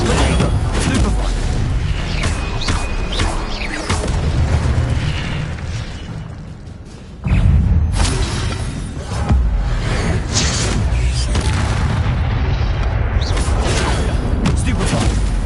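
Repeated Stupefy spell blasts from Hogwarts Legacy combat land as loud, punchy booms and bursts over busy game noise, dipping quieter for a moment before a sharp, forceful impact brings the barrage back.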